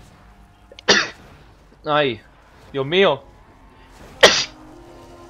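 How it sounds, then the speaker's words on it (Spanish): A person sneezes during a Call of Duty zombies game session, with a sharp burst near the start and another a few seconds later, broken up by short exclaimed voice sounds in between. "Ay, que voy a estornudar."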